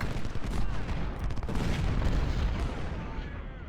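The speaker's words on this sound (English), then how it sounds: "So the enemy has artillery out there somewhere." Artillery booms roll across a Civil War battlefield in the strategy game Ultimate General: Civil War, dense overlapping rumbling blasts that continue steadily for several seconds.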